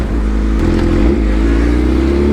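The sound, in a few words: Bajaj Pulsar NS motorcycle engine revving during a wheelie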